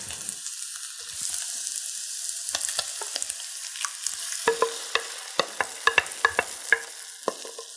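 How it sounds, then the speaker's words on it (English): An egg mixture with smoked salmon and dill goes into a pan over low heat for a potato frittata, a quiet hiss broken by a series of sharp clicks and taps of utensil against pan, growing busier toward the end. "we're going to add this egg mixture right to the pan"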